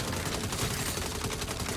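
Dense rapid gunfire in a Saints Row shootout with police, a fast stream of overlapping shots crackling loudly and continuously.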